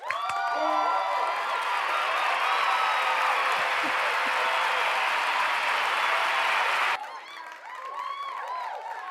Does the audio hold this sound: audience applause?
yes